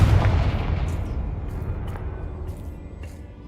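Confringo, a fire spell in the Hogwarts Legacy video game, hits with a deep booming blast that rolls and decays for several seconds, with a few faint crackles trailing off.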